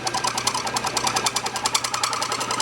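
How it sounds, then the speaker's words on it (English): A metal lathe spinning a welded part while the cutting tool shaves the weld away, a loud, steady, rapidly pulsing chatter with a metallic ring, close and alone. "let's put it in the lathe and crank the lathe up and just cut the weld away"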